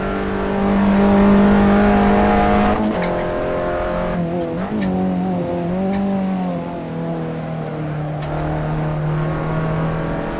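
Race car engine in the Assetto Corsa sim holds a loud steady drone, then drops in pitch around a gear change and the throttle eases off, followed by wavering revs as it settles at a lower tone.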